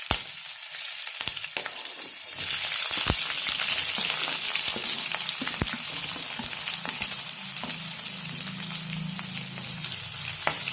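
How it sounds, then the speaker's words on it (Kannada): Chopped onions frying in hot oil in a pan for capsicum gravy, a loud steady sizzle that surges when they hit the oil, with sharp clatters of stirring throughout. "ಸ್ವಲ್ಪ ಈರುಳ್ಳಿ ಹಸಿ ವಾಸನೆ ಹೋಗೋವರೆಗೂ ಫ್ರೈ ಮಾಡೋಣ."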